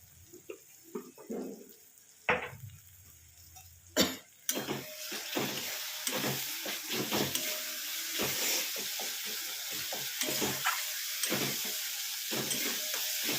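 Kabuli chickpea masala, seasoned with a little sugar, is stir-fried in a pan. A steady sizzle runs throughout, broken by repeated scraping stir strokes and a couple of sharp clanks near the start, with no voices.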